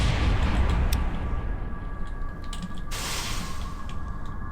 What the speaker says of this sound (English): I can hear it firing flares.